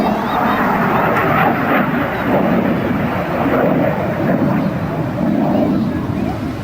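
Harrier jump jet with a Rolls-Royce engine performing a display at the Sunderland Airshow, a loud, continuous broadband jet roar that stays steady and close throughout, with no talk.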